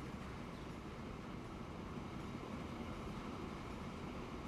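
A train runs in the Transport Fever video game, heard from the driver's cab as a steady, even rumble of rolling wagons that stays constant and moderately quiet throughout, with no talk.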